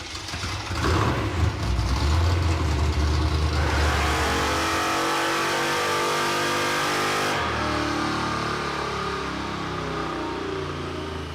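Supercharged engine in the Crusher Impala revving hard on a dyno, a loud sustained roar that swells and holds at high revs, then drops in pitch but keeps running steadily.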